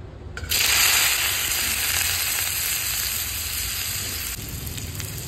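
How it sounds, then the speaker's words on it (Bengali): Cauliflower and potato pieces, boiled beforehand, sizzle loudly in hot mustard oil on a clay stove on a rainy day, a steady close-up crackling hiss that bursts in at the start and holds throughout. "এর মধ্যে ওখানে ফুলকপি আলু ভাজুম।"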